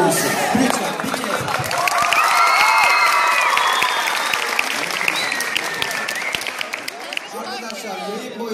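A studio audience at a Turkish television comedy show recording claps in a full, sustained burst of applause, with scattered cheers and crowd murmur mixed in throughout.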